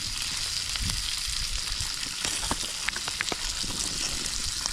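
Mushrooms sizzling on a hot pan at a campsite, a steady close crackle of frying with small pops and faint scrapes throughout.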